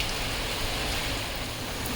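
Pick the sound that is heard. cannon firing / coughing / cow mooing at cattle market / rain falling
rain falling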